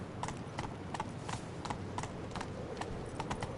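Horse hooves trot in a steady clip-clop rhythm on ground in The Witcher 3, the evenly spaced, moderately loud footfalls continuing under a faint game ambience.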